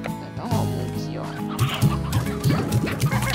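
Hen clucking in the Slime Rancher video game, a series of short, rhythmic low clucks over a busy game soundtrack with other in-game noise.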